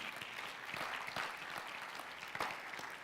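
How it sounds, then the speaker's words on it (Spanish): Worshippers in a church service clap for the Lord, a quieter, somewhat distant patter of applause with a few sharper individual claps standing out, continuous throughout. "Vamos, dale un aplauso al Señor."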